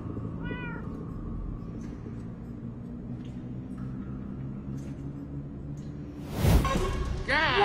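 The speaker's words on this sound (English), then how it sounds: "I heard the cat." A cat meows briefly near the start in the video game Minecraft Story Mode, a short faint call over steady game music and ambience, followed later by a louder whooshing swell.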